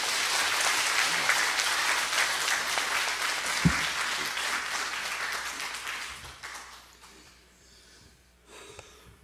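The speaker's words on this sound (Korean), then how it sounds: "나오실 때 박수로 환영해 주시기 바랍니다." A church congregation gives dense, loud applause to welcome a speaker, steady for several seconds before thinning out and fading to a few scattered claps and near silence.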